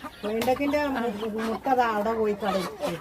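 Mother hen that hatched flying duck eggs clucking close by in a backyard, a series of drawn-out nasal clucks and short calls coming in bursts, alongside a person's voice.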